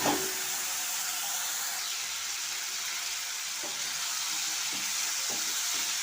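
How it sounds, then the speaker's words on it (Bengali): Turmeric- and salt-marinated prawns poured into hot oil, setting off a continuous hissing sizzle at moderate volume, with a few soft clicks of stirring, and no voices. "এখন আমি চিংড়ি মাছটা ঢেলে দিচ্ছি।"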